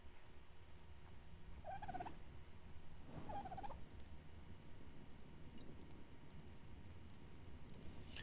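A dodo calls in Ark: Survival Evolved with two short gobbling, turkey-like squawks about a second apart, faint over a steady game ambience, with no one speaking over them.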